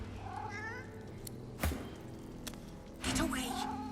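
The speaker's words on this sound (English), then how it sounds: "The undead cat arches its back." An undead cat in Divinity: Original Sin 2 gives a couple of meows, each with a thump, over game ambience and a low background hum.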